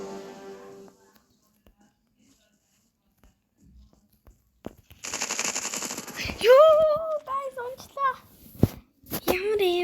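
Rapid automatic gunfire rattles out in the video game Counter Strike 1.6, starting after a quiet stretch and running loud for several seconds, with excited voices talking over the shooting.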